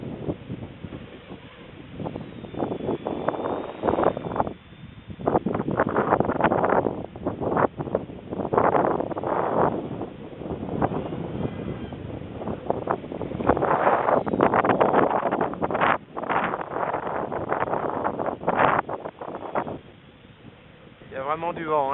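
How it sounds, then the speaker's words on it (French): Strong wind of about 20 km/h buffets an outdoor microphone in steady, loud rumbling gusts for the whole stretch, with a voice talking over it. "Il y a vraiment du vent, hein."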